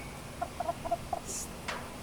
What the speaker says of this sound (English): They're busy red hens.